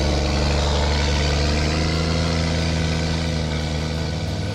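Ford F350 pickup with a swapped CAT 3126 inline-six diesel and a 5-inch straight pipe with no muffler, a loud, deep, steady rumbling idle close by with no voices.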